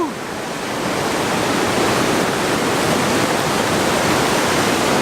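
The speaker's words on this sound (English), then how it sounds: "we hiked all the way, and well, here we are, the waterfall." Steady, loud rushing of a waterfall at Mammoth, a dense broadband roar of falling water heard close up, constant and unbroken throughout with no voices.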